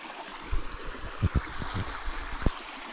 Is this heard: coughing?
no